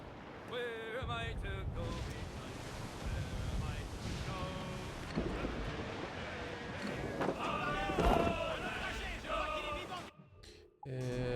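Roaring wind gust in a video game, a steady broad rush with game music and effects layered over it and a brief dip near the end.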